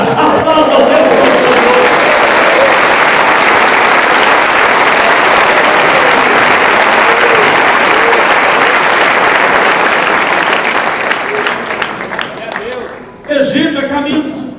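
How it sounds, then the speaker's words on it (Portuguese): A church congregation applauding, loud, dense sustained clapping that fills the space for about twelve seconds, then dips and briefly resumes as voices come in. "Quem crê nessa palavra, aplauda o Deus"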